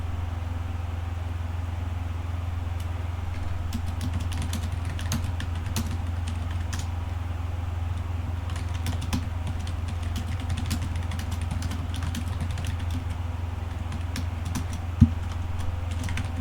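Code is typed on a computer keyboard in quick, uneven bursts of soft key clicks over a steady low electrical hum, with one sharper tap near the end and no speech.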